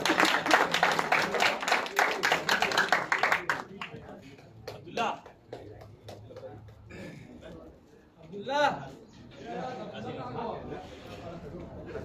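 An audience at an Azamgarh cricket committee award ceremony gives a burst of dense clapping that fades after a few seconds, then gives way to a voice talking over a quieter hall.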